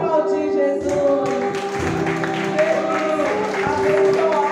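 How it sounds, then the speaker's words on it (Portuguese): A church congregation at a New Year's Eve service applauding, steady clapping from a crowd heard over sustained music, continuous and moderately loud throughout. "Vamos aplaudir Jesus."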